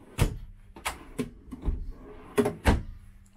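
Several wooden drawer thuds and slides in an irregular sequence, close by inside a 2020 Thor Delano 24FB motorhome, with short pauses between each open and close.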